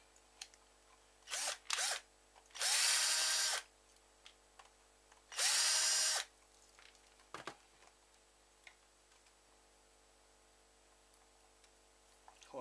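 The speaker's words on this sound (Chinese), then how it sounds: "这个螺丝很紧啊，螺丝刀先松一下子。" A powered screwdriver loosens tight screws on a Razer mouse, with several loud, close whirring bursts of one to two seconds each and small clicks of parts being handled between them, no talking.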